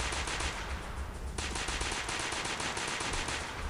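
Rapid automatic gunfire from the Android shooter game Alien Resistance rattles continuously in fast, even bursts, loud and close, with no talking over it.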